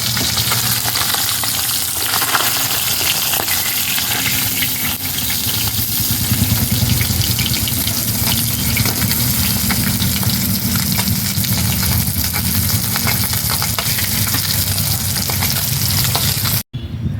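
Rohu fish frying in hot oil in a wok, a steady, loud, dense sizzle that continues unbroken throughout with occasional faint stirring clicks.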